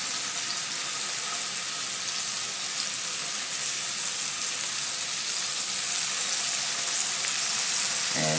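A dozen scallops sear in a hot pan, six at a time, giving a steady, loud sizzle that fills the whole stretch without pause.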